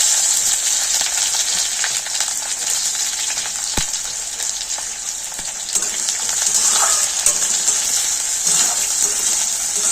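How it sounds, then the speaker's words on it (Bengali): Chopped onions sizzle steadily in hot mustard oil tempered with whole cumin and dried red chilli as they are stirred, with soft scraping and a single sharp clink partway through. "পেঁয়াজটাকে নেড়ে চেড়ে ভেজে নেব"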